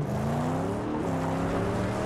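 A car engine in the Mad Max video game drones steadily and loudly, its pitch rising and falling as it revs, with no talk over it.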